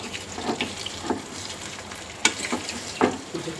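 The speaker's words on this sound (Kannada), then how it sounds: "ಇದರಲ್ಲೇ 2-3 ನಿಮಿಷ ಚೆನ್ನಾಗಿ ಇದನ್ನು ತಿರುಗಿಸ್ತಾ ಇರಬೇಕು" Chicken pepper dry sizzles steadily in a pan while being stirred, with a few louder scraping clicks of the spoon against the pan over continuous frying hiss.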